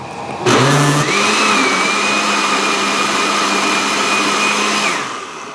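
A blender starts up and whirs loudly and steadily for several seconds, blending peppers without added water, its motor pitch shifting slightly as it churns, then winds down.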